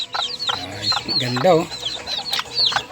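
Young Sebright and Texas chickens cluck and peep close by in a short, busy burst of repeated calls, with a voice speaking briefly among them.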